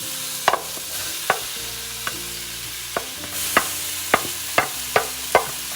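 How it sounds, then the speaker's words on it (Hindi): Two kinds of capsicum and tomatoes are stir-fried in a pan with a little water: a soft, continuous sizzle broken by about a dozen sharp spatula taps and scrapes at an uneven rhythm, close by. "अब मैं ये तीनों वेजिटेबल्स जो हैं, दोनों तरीके के कैप्सिकम और टोमेटोज सब एक साथ ऐड कर दूंगी."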